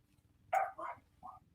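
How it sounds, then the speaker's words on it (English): Several barks from dogs, three close yips in quick succession, heard at moderate distance over a low background hum with no talk. "I got to go see what the dogs are doing. They're barking."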